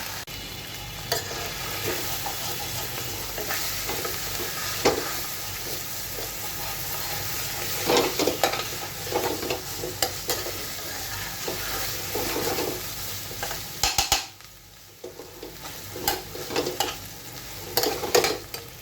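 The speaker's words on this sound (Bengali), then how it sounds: "খুব ভালো করে কিন্তু কষিয়ে নিতে হবে" Chicken stir-fried in a pan, a continuous close sizzle broken by repeated scraping and stirring strokes, with a short lull partway through, no talk.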